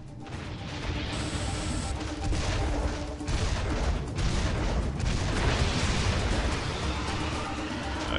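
Enemy gunfire in the first-person shooter Serious Sam 3, a dense, loud rattle of shots and crashing impacts that carries steadily through the whole stretch with no talk.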